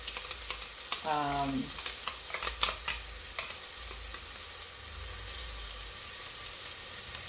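Pureed onion cooks in a pan for homemade spaghetti sauce, a close sizzle with scraping stir strokes and occasional clatter against the pan, then settling into a steady, quieter fry.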